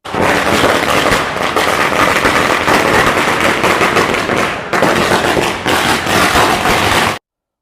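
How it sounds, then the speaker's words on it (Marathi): Firecrackers bursting at Suryamukhi Ganesh temple in Anandnagar as a crowd of hundreds welcomes a candidate; a loud, continuous rattle of rapid crackling pops with two brief gaps, stopping abruptly. "सूर्यमुखी गणेश मंदिर येथे फटाक्यांच्या आतषबाजीत शेकडो मतदारांनी काकडे यांचं स्वागत केलं"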